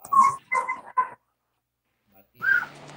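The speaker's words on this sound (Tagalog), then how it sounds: "Yung aso nyo maingay." A dog barks and yelps in quick short bursts, about three close yips, then another bark after a pause, with a low murmur beneath.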